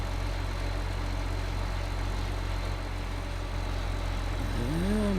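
A tractor engine in Farming Simulator 15 hauls an oversized mower, giving a steady, loud low drone that runs unbroken through the whole stretch, with a brief rising tone near the end.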